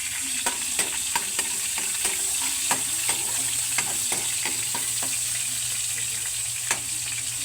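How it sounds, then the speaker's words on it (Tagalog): Chopped garlic sautés in oil in a hot pan, a steady close sizzle with scattered crackles and occasional light scrapes and taps of a spatula stirring. "So ngayon po magigisa na po ako ng bawang, sibuyas, tapos po yung sahog po natin giniling"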